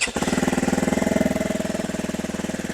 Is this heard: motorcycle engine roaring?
yes